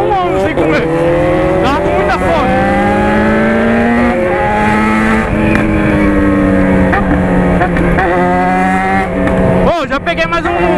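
A motorcycle being ridden, its engine note loud and close with repeated rising and falling revs as it shifts through gears, steady throughout with talk mixed in.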